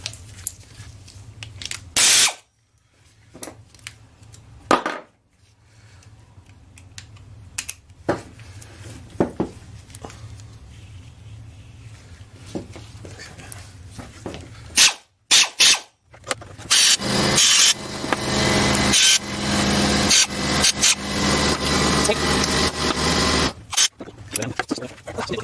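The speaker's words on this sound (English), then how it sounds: "I'm actually going to dip it in an ultrasonic cleaner" A Craftsman string trimmer part is dipped into a running ultrasonic cleaner, giving a steady broadband hiss and hum broken by sharp clatters and brief pauses, loudest and most continuous in the final stretch.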